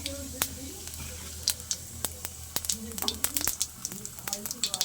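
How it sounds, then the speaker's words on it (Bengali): Whole cumin seeds sizzling in hot oil left from frying brinjal: a steady close fizz with sharp crackles and pops scattered throughout, and a voice talking quietly over it. "এবার আমি ওই বেগুন ভাজা তেলের মধ্যে দিয়ে দেবো জিরে, গোটা জিরে"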